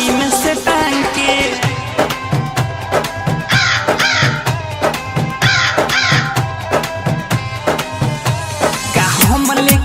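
A crow caws in repeated harsh bursts, set loudly within rhythmic music.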